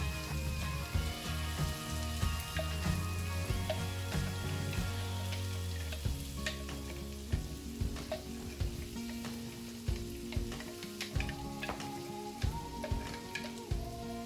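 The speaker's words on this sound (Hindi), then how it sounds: "अभी मैं इसमें ऑनियन डाल रही हूँ। ऑनियन को गोल्डन ब्राउन होने तक पकाएंगे अच्छे से।" Onions frying in a pan, a continuous crackling sizzle with occasional stirring scrapes and faint kitchen hum underneath, heard close and alone.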